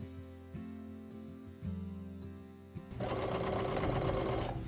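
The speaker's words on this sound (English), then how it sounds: "And now I can sew the sleeves back on" Sewing machine stitching shirt sleeves back on: a few short hesitant bursts of the motor, then a fast continuous run of rattling stitching, close and alone.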